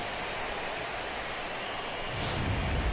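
Steady rain hisses across a baseball stadium during a postseason game, a constant broadband wash with a low rumble swelling near the end.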